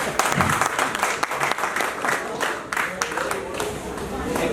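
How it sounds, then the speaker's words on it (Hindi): An audience at a Star Night party with bhangra and a DJ bursts into dense, lively applause, many hands clapping at once with cheers and voices mixed in throughout. "एक बार ताली।"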